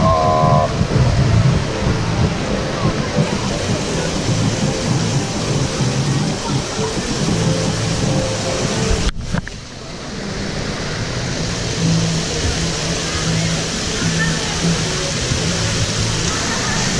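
Water sprays and splashes continuously at Volcano Bay water park, a steady loud hiss with people talking and shouting over it and a brief drop midway.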